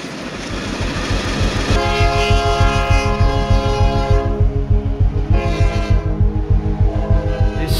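A train near Quito, Ecuador rumbles past close by with rhythmic clattering wheels, its horn blaring in long sustained blasts over the noise.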